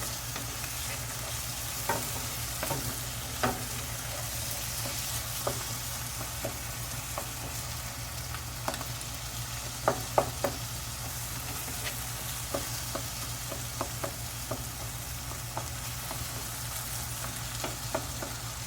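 Baingan bharta, mashed eggplant, stir-fried in a pan: a steady soft sizzle runs throughout while a spatula scrapes and taps against the pan in scattered, irregular clicks, close and without talk.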